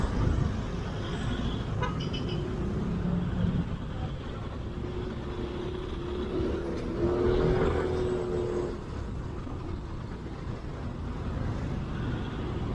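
Congested road traffic in the Philippines heading toward Manila: a low, distant rumble of idling and creeping vehicles, with faint short car-horn toots early on and a slightly louder swell of engines midway.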